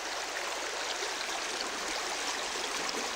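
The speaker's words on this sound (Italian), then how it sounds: "Pucciare i piedi nell'acqua fresca." A mountain stream flows steadily, a broad continuous rush and burble of water close by, with no voices heard over it.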